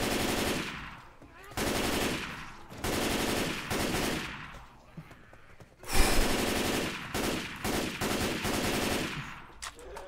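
Rapid automatic gunfire in Left 4 Dead, several long bursts of machine-gun fire separated by short gaps, loud and near with little talk.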